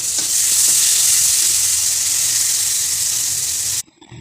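Dal sautéing in hot oil with tempering in a home kitchen gives a loud, steady, close sizzle that runs unbroken for nearly four seconds, then cuts off sharply into near quiet.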